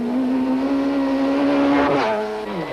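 A rally car races flat out around a stadium car park stage at Greenpoint Stadium in Cape Town during the 1991 Toyota Dealer Rally, its engine loud and close with a steady high rev before the pitch drops and shifts near the end.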